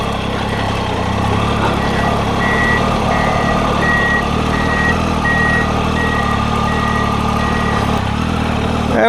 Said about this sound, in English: there's the road grader